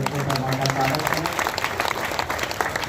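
A poetry recital audience at a kavi sammelan applauds steadily, with dense crowd clapping that stays even throughout under a voice speaking over it.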